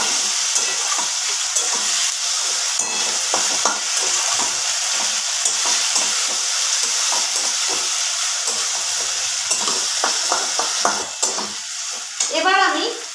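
Green chili paste sizzles and hisses in a hot pan for a chicken dish, with steady frying crackle and intermittent scraping stirs, a louder burst of spatter near the end.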